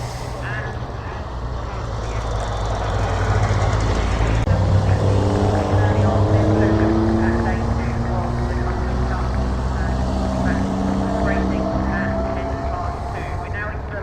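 Racing cars at Lydden Hill race circuit roar past close by, a loud continuous wash of engine noise with rising, overlapping engine tones swelling after the first few seconds and holding steady, with faint voices underneath.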